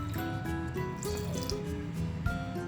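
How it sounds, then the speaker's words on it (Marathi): Water from a glass pours into a pan of gram flour curry being cooked, a soft steady liquid trickle and splashing heard faintly and continuously without talk. "मी दोन ग्लास पाणी घालणार आहे"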